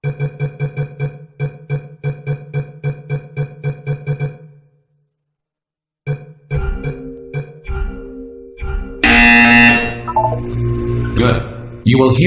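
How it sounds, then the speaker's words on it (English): Electronic buzzer in the video game Portal 2 sounds as a rapid train of identical short beeps, regular and clean, followed by a pause and then game sounds and music. "You will hear a buzzer."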